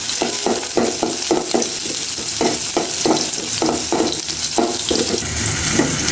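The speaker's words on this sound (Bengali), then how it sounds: "রসুন কুচি, পেঁয়াজ কুচি। এখন ভালো করে ভেজে নেব।" Chopped garlic and onion frying in a pan, a continuous sizzle with a rhythmic series of quick spatula scrapes and stirs throughout, close and fairly loud.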